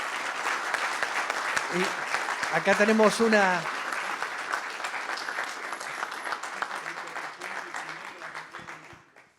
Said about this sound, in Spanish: Les pido un aplauso para los dos oradores.